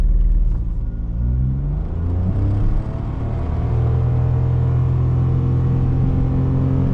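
A 2022 Mitsubishi Mirage accelerates hard, its small engine droning loud and steady with rising harmonic pitch over about seven seconds, heard from inside the car with no talking.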